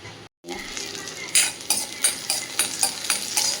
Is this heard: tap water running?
no